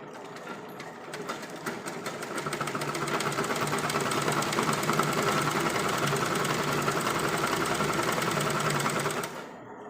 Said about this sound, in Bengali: এই যে আমি কিছুটা সেলাই করছি